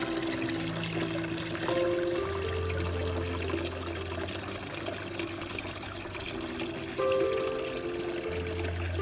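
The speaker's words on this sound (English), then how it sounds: "the beautiful sound of the water fountain" Continuous trickling and splashing of a garden water fountain, steady and close, with some sustained musical tones running underneath.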